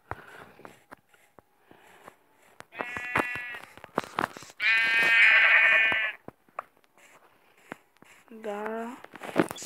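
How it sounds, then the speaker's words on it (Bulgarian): Sheep bleating in the Minecraft video game, a few short harmonic bleats spaced across the clip between clicks and thumps of gameplay, loud and close, with one long sustained bleat in the middle and a lower wavering one near the end. "Скоро ще убия овцата"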